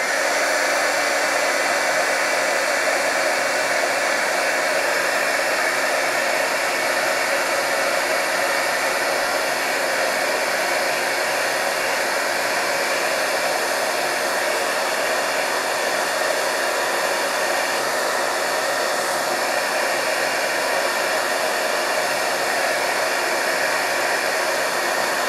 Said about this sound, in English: I'm going to go ahead and heat emboss it with my heat gun until it turns clear.